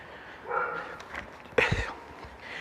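A dog outdoors gives a couple of short barks and yips, moderately loud and close, with a sharp burst near the middle and faint background noise between.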